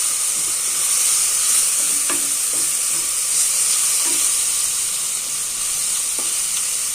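Onions with rock salt sauté in a pan for peas pulav, giving a steady close sizzle with light, scattered scrapes from a stirring spoon; no voices.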